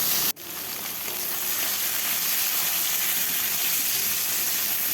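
Potatoes frying in hot oil with chilli and onion, a steady close sizzle with a sharp crackle as they hit the pan, then constant hissing.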